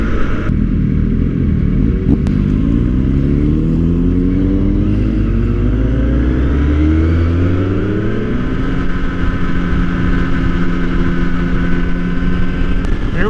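A Kawasaki ZX-10R sportbike on an early-season ride through Kouchibouguac, its engine droning loud and close throughout, the pitch sweeping up and down through the gears and revs, with no one talking.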